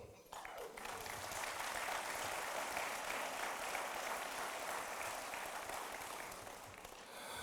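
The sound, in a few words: audience applause at graduation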